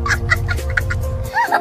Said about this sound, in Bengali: এই মোরগ চিৎকার করে করে প্রতিদিন ভোরবেলা সবার ঘুম ভাঙিয়ে দেয়